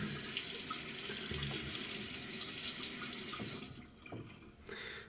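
Tap water runs steadily into a sink to wet a shaving brush head, a close, even stream that cuts off briefly, then flows again for a moment.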